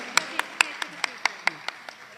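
A small group applauds at a school naat competition in Gujranwala, welcoming a guest with about ten distinct, evenly spaced, loud, close claps.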